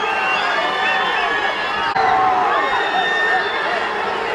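Crowd at a Janasena public rally in Ongole, a dense roar of shouting and cheering voices with whistles, sustained throughout and loud, swelling slightly after a brief dip.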